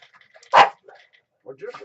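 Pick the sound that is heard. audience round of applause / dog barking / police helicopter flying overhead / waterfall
dog barking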